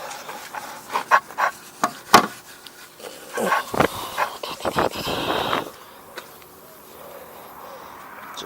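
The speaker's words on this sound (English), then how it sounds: "That's literally just cleaning it with that Brillo pad." Chrome wheel trim on a Ford Bronco project truck scrubbed by hand with a Brillo pad: a burst of rapid, uneven rasping strokes, close and fairly loud, then trailing off into quiet.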